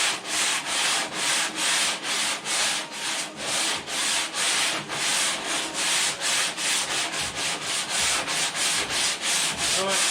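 Sanding block rubbed back and forth over body filler on a car panel, loud regular strokes roughly every half second, close and continuous without speech.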